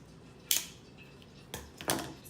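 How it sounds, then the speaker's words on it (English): Scissors snip through the bottom of a plastic container holding funnel cake batter: three short, crisp cuts, close and fairly loud, with a pause after the first and the last two close together. "I'm going to go ahead and cut this now, and we're just gonna cut it at the bottom"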